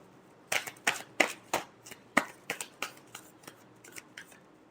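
Tarot cards being shuffled by hand, a run of about a dozen crisp riffling bursts in quick succession, close and clear, with no talking.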